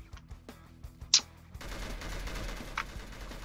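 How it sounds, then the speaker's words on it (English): Gunfire in a Roblox game, heard as a few sharp shots followed by a steadier rattle of continuous firing under a background hum. "Why are you shooting at me?"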